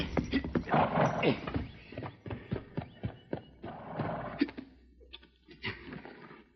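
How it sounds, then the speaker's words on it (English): A horse close by snorts and whinnies while its hooves clop and thump unevenly on the ground, in a 1948 Lone Ranger radio drama. "There's his horse standing nearby."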